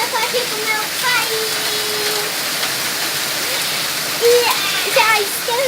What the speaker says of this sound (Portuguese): Hoje eu vou ir na chuva, um banho de chuva